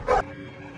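A Belgian Malinois gives one short, close bark followed by quiet.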